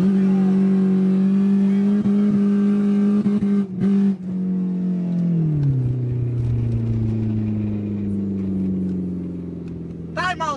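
A BMW accelerates hard at full throttle, its loud engine drone holding steady and close before dropping in pitch midway, as though shifting gear, with a brief rising whine near the end; a person talks over part of it.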